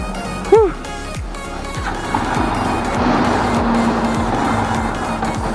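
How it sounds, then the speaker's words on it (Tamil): A Royal Enfield Himalayan BS6 motorcycle engine catches with a sharp start-up burst, then settles into a steady, close idle rumble with regular thumping pulses. "ஓகே, வண்டி ஸ்டார்ட் ஆகிடுச்சு."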